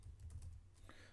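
A short run of keystrokes on a computer keyboard, soft, quick clicks close by against a low steady background hum.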